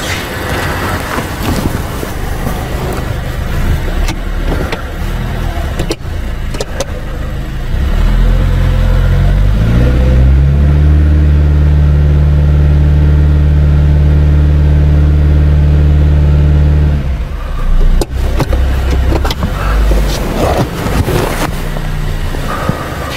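A 2018 Honda Fit with the 1.5-liter GDI engine, showing a rich-fuel fault, revs up under power braking, its steady tone climbing and holding loud, then dropping back to idle, with wind buffeting the microphone.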